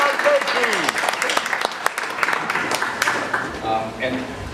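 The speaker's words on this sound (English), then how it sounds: "let's do a quick round of applause" Audience applause at an Oxnard city council candidates forum: a short spell of scattered clapping from a room crowd, mixed with talk and other voices throughout.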